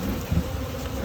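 Honey bees buzz at a beehive during fall preparation, a close, continuous hum with a brief louder swell partway through.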